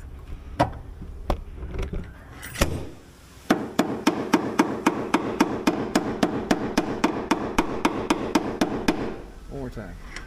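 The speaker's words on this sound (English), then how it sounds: "Okay, slide hammer." Slide hammer working a dent out of a car door jamb in a body shop: a few spaced metallic knocks, then a long run of quick, regular, loud impacts, with brief voices and handling noise between.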